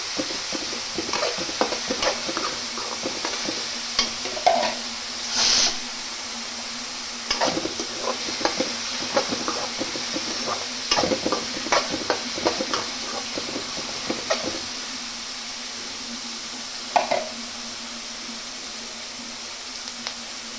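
Onions fry with salt in a pan, a steady sizzle running throughout with frequent scraping stirs and light clinks on top.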